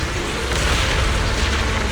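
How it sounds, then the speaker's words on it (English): Video game explosions roar in a dense, continuous blast of rumbling booms and crackling bursts, loud and close, with no pause across the short stretch. "Move in during the gap between explosions."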